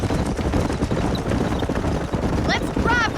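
Horse hooves gallop in a steady clip-clop rhythm through a Red Dead Redemption ranch scene, loud and continuous, with a whinny breaking out near the end.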